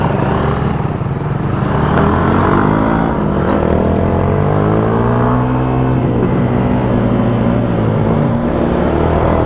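Motorcycle engine revving and accelerating on a rainy night ride, loud and close, with rising and falling harmonic engine tones throughout and no talk.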